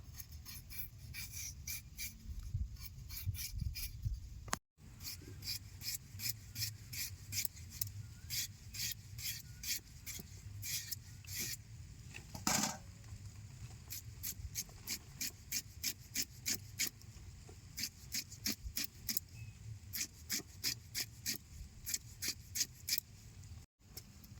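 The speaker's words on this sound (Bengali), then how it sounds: "এরম করে পুরো আলুটা আমি কুচাই নেব" A boti blade finely chops a raw potato in a fast run of short, even cuts, close and fairly quiet, with a brief pause partway through.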